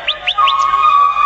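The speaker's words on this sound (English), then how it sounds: "The Emperor then wound up the clockwork bird and commanded the real nightingale to sing" A clockwork bird and a real nightingale singing together at an emperor's court: a few quick rising chirps, then a steady sustained whistled tone, fairly loud and close with no voices.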